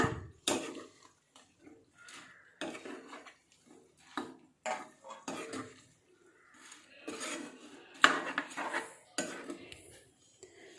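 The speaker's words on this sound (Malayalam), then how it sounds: "അപ്പം നമുക്ക് നന്നായിട്ടൊന്ന് മിക്സ് ചെയ്ത് കൊടുക്കാം" A spoon clatters and scrapes around a pan while sardine pickle is stirred, giving irregular bursts of metallic knocks and rasps separated by short quiet gaps, close and fairly soft.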